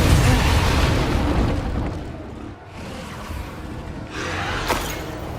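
A Bombarda spell explosion in Hogwarts Legacy sets off a loud, broad blast that roars on for several seconds. A few further bursts and pops follow inside the game's combat noise.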